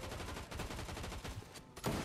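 Muffled, continuous gunfire from the video game Fortnite, a steady dense rattle of shots that stays fairly quiet and far off throughout, with a sharper crack near the end.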